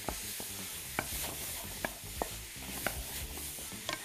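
Seafood with onion and garlic stirred in a frying pan: a continuous close sizzle with a spatula scraping and several sharp clicks against the pan.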